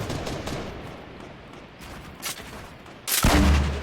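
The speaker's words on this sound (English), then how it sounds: "They're volleying these grenades." Grenades go off in a video game shootout, heard as bursts of sharp gunfire-like cracks and booms, with a loud, close blast near the end.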